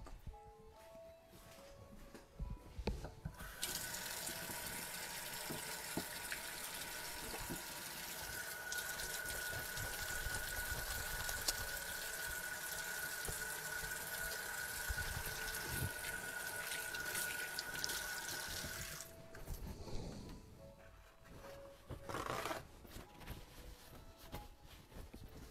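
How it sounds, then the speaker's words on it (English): Running tap water splashes steadily into a sink as hands are washed, a broad rushing stream that starts after a few seconds and stops near the end, with faint clatter around it and no speech. "I'm washing my hands"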